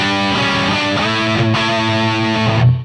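Marshall JCM800 split-channel 2205/2210 amp at maximum gain with spring reverb on, an electric guitar ringing through loud, sustained distorted chords with a reverberant tail, steady and alone.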